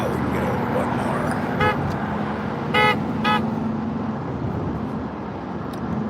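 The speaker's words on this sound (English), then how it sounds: "Don't honk at me." Car horns honk in traffic, three short toots around mid-clip over a steady roar of road and engine noise heard from inside a moving vehicle.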